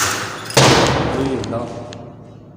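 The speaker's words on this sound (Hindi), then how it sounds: "फिर दरवाज़ा बंद हुआ" A door bangs shut in a dusty, cobwebbed building, one sharp close slam that rings and fades over about two seconds.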